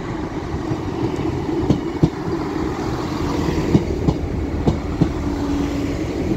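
Northern unit 158847 pulling into Stockport station on the West Coast Main Line, a steady low rumble of the arriving train with sharp rhythmic wheel clicks over rail joints, moderately close and heard alone.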